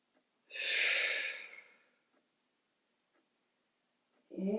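A single long breath during a Pilates foam roller core exercise, one strong airy exhalation lasting over a second, then quiet with faint ticks before another breath starts at the very end, close and intimate.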